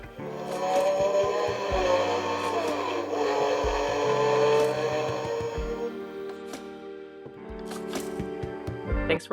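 A toy race car engine effect from the case of a 1:18 Porsche 917/30 model revs and roars continuously with electronic buzzing tones, loud and close, fading briefly near the end before a final burst.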